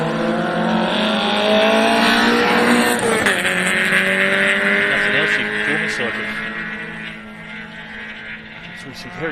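A rally car runs into the stage finish on SS8 of Rally South Canterbury, a 2024 New Zealand Rally Championship round. Its loud engine drones and shifts in pitch for several seconds, then gradually fades as it moves away.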